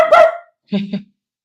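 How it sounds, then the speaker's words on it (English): Dogs barking in a house, two short bursts with a brief gap between them, fairly loud and close. "my dogs are barking"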